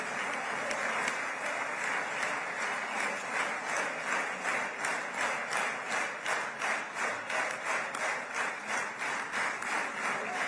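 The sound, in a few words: regimented crowd clapping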